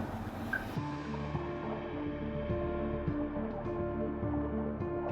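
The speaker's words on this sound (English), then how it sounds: "Just the sound of an engine, and we got a little shark tracking along beside us." Outboard motor on a boat running steadily underwater, a constant droning hum with layered harmonic tones, close and continuous with faint watery bubbling.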